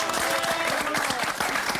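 Dense, steady audience applause at a televised poker event, a continuous wash of many hands clapping close by, with no voices over it.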